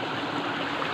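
Stream water running over a small man-made mini waterfall outdoors, a steady broadband rush with no breaks, close and fairly even throughout.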